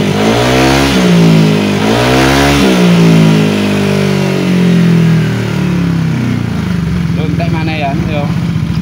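A car engine with a hot, overheating cooling system is revved hard several times, rising and falling in pitch up close, while radiator water sprays out. Someone talks over the engine.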